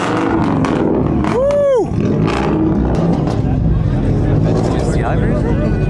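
A 2012 Subaru STI revs hard at an exhaust competition during a big Subaru meet, a loud, close engine roar rising and falling in quick blips, with crowd voices and a cheer over it.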